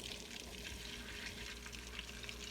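Small chopped onion sizzles in melted butter in a pan, a faint, steady frying hiss with soft crackles and no voices.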